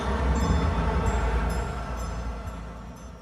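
A sustained, tonal synth pad from the Trailer Xpressions IV sample library plays a C, humming with a deep low drone and soft shimmering overtones, steady then slowly fading.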